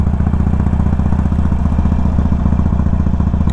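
A Harley-Davidson Sportster Forty Eight rides through town, its V-twin engine a loud, steady, close throbbing pulse with a dense low rumble throughout and no talk.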